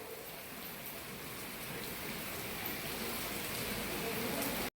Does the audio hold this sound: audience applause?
no